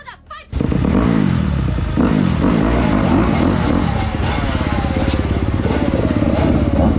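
A motorcycle engine bursts to life and revs hard close by, a loud, rough, sustained roar with wavering pitch and mechanical clatter throughout.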